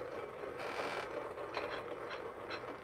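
Kafatek Monolith Titan MC5 conical coffee grinder grinding beans at very low RPM: a steady, faint mechanical grinding hum with light creaks and crackles throughout, no talk.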